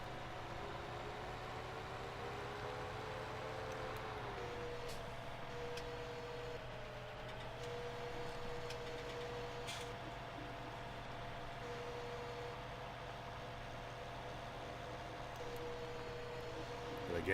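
A tractor engine idles steadily in Farming Simulator 17, a low continuous drone with a faint whine rising and falling over it, no talk in between.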